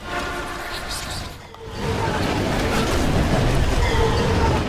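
A train in the video game Legendary rumbles past, a loud, continuous roar that builds after a brief dip and holds steady, with talking faintly beneath it.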